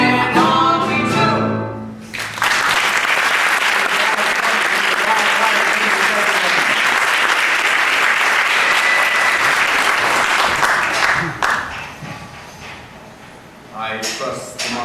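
Sustained theatre audience applause from a live musical-stage performance, a dense, loud wash of clapping lasting about ten seconds before tapering off, with singing before it and a voice speaking as it fades.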